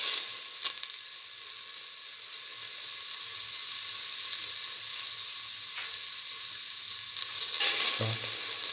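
Ginger frying in oil alongside garlic and shallots gives a steady, bright sizzle throughout, with occasional soft taps and a low thump from stirring near the end.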